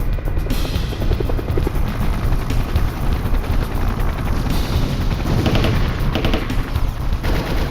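Machine gun fire rattling during a helicopter fast-rope assault in a military raid, with a continuous loud rotor drone and dense bursts of automatic shots throughout.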